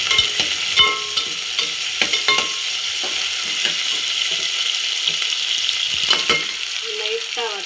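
Green chillies and curry leaves fry in a pan for a katla fish curry, crackling and sizzling steadily up close while a utensil scrapes and taps at intervals; no talking.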